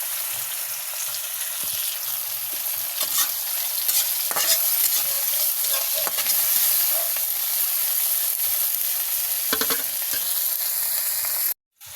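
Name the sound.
cooking banana with bagoong, stirring and frying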